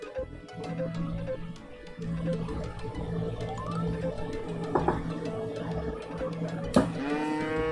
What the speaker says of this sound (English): Cows are so energetic.